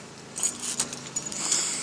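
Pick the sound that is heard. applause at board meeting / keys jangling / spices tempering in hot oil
keys jangling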